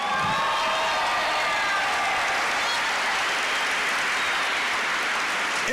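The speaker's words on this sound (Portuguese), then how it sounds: "Pode aplaudir de novo." A church congregation applauding, a thick, continuous wash of clapping that stays level throughout with no gaps.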